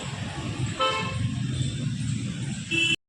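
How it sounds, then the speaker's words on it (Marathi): Road traffic streaming past near the Tapi river bridge, a steady wash of engine and tyre noise with a car horn tooting partway through and a brief high honk near the end before a short dropout. "हे बघा माझ्या समोर किती गाड्या चालल्या"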